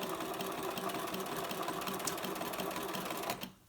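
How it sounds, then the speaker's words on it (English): An overlocker whirs steadily along the edge of stable dress fabric at a fast, even buzz for over three seconds, then stops abruptly. "Whiz down there with your overlocker or do a zigzag."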